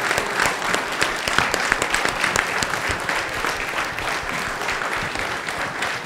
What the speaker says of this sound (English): guys, a big round of applause